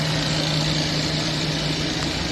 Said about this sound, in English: got the pump going, laying her out